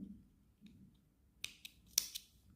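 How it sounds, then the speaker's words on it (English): Scissors snip through crochet yarn in a few quick, close, crisp cuts near the end of an otherwise quiet moment. "You can just cut it now."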